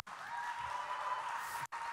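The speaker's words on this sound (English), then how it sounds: "Let's give him a standing ovation" Applause rises for a World War II veteran in a standing ovation at an award ceremony, a dense, steady crowd clapping that holds for nearly two seconds before a brief dropout.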